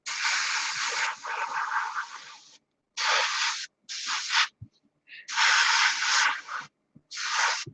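An aerosol spray can lays a light coat of paint on a plastic model kit in several short hissing bursts of a second or two each, separated by pauses, close and fairly loud.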